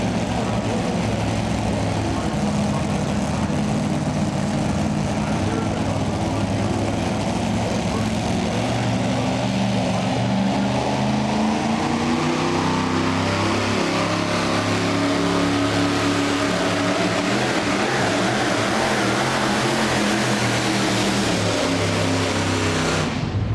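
A super modified two-wheel-drive pulling truck roars continuously at full power during a pull at the Hillsboro Charity tractor pull, a loud, sustained, gritty engine drone with a slight shift in pitch partway through.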